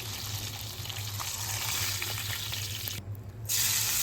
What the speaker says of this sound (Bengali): মাছ ভাজার তেলেই দিয়ে দিলাম দুইটা মাঝারি সাইজের পেঁয়াজ কুচি